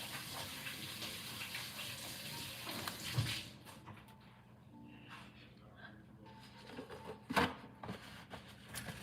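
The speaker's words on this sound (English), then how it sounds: "Let me wash my hands." Running tap water splashing over hands being washed in a home kitchen sink, a gushing wash that fades midway and returns briefly, with a few light clatters.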